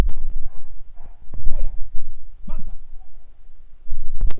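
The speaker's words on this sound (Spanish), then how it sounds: "es imposible con los perros y todo en tu casa" Dogs barking inside a house, several sharp barks scattered through the moment, fairly close and loud, with a few softer whimpers between them.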